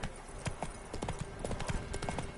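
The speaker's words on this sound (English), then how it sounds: "I love how Roach just magically teleports from behind me to the left of me right there" Horse hooves clip-clop steadily in a brisk rhythm as a horse trots close by in The Witcher 3: Wild Hunt on PS5, with faint game ambience beneath.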